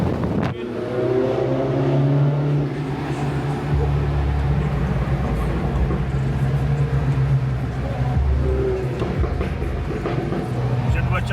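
Car engine and road rumble inside a Paris road tunnel, a steady low drone with wind-like roar and faint crackling, continuous and fairly loud throughout.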